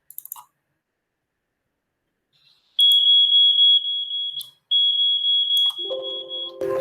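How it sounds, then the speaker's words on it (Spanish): A smoke-detector-style alarm tone plays from an MP3 file on a computer: a loud, steady high-pitched beep sustained for about two seconds, a brief gap, then again, with a lower tone joining near the end. "yo tengo un sonido de alarma"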